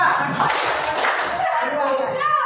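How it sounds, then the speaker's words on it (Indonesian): Classroom children clap together on cue in a brief, loud burst, with voices mixed in and a chuckle near the end. "kalau ibu bilang tepuk 1, maka kamu akan sekali tepuk 1, tepuk 2"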